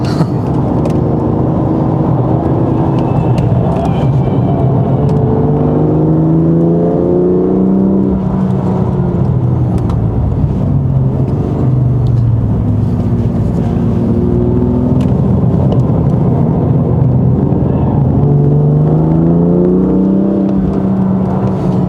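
A BMW F87 M2 Competition accelerates hard on a test track, its engine a loud, steady roar rising and falling in pitch through repeated revs and gear changes, heard from inside the car.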